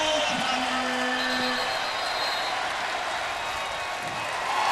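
A big stadium crowd at a Vanderbilt at Western Kentucky college football game sends up a dense, continuous roar of cheering and applause, with a faint voice briefly audible at the start.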